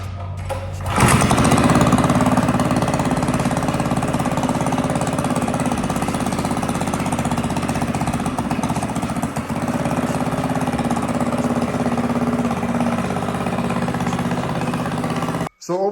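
Small mini bike engine catches about a second in and runs continuously, a loud, rapid, buzzy putter that holds steady for the rest, with a brief cutout near the end.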